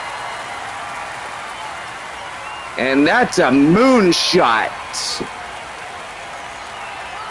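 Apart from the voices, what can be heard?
crowd cheering a home run at a baseball game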